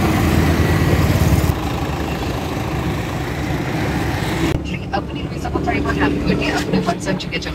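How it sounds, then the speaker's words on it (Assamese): A used Nissan Terrano's engine idles close by, a steady low rumble with broadband noise that shifts in tone partway through and runs on without pause. "ইঞ্জিনৰ চাউণ্ডটো শুনিব পাৰিব"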